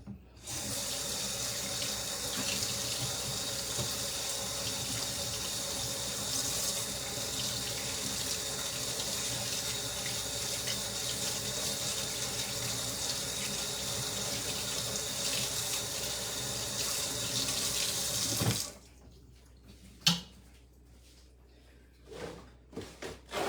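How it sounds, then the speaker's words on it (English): A kitchen tap runs steadily while something is rinsed for about eighteen seconds, then shuts off, leaving a few small knocks and handling sounds in a quiet room. "Let me rinse this off real quick,"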